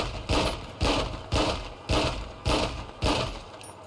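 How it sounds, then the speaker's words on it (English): Weapon clicks from a GTA 5 weapons script, six sharp mechanical clicks at a steady rhythm roughly every half second, each with a short metallic tail, close and clear with no talk. "What you're hearing there is another click."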